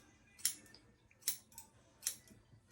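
Scissors trim the hair of a man's installed hair unit in four evenly spaced, crisp snips, close and quiet against a near-silent room.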